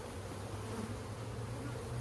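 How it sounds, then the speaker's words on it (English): Honey bees buzzing at a hive frame, a close, dense and continuous drone with a low steady hum, no talking. "You might piss off a bee or two,"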